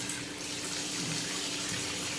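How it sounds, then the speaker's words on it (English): Tap water runs steadily over about a cup of quinoa in a kitchen sink to rinse it, a continuous close hiss of flowing water with no talk. "I'm just running water over just to kind of rinse it off and everything"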